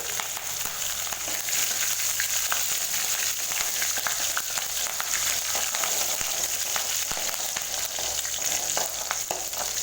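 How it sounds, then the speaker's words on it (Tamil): Green chilies, cinnamon and curry leaves frying in hot oil for a brinjal fry, a loud continuous crackling sizzle with dense popping that holds steady throughout, alone without voices. "பச்சை மிளகாய் பாருங்கள் எண்ணெயில் நல்லா பொரிஞ்சு வதங்கிருக்கு"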